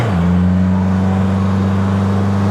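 A 2025 Polaris Slingshot three-wheeler drives along with a steady, loud engine drone that holds a constant low pitch, a brief rise at the start settling into an even cruising hum.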